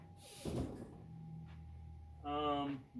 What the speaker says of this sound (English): now all I have to do, close this door. I can close this door.